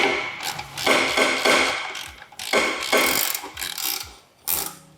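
A ratchet spanner undoing seized strut bolts on a 90s Japanese car, with loud bursts of rapid clicking repeated in several spaced runs, close up and with no talk.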